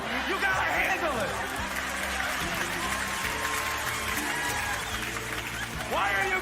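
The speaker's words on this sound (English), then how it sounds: "Why are you clapping for me?" Theater audience breaking into sustained applause at a comedy show, a dense, even patter of many hands clapping with scattered chuckles and murmurs mixed in.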